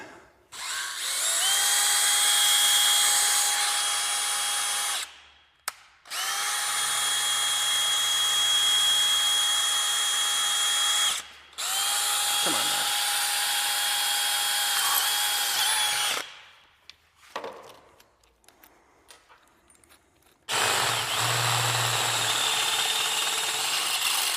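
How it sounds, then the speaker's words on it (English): A power drill bores through stainless steel in three long, loud, steady whining runs separated by brief pauses, close up, ending with quieter handling noise and a short final burst. "Stainless. It's hard on drill bits."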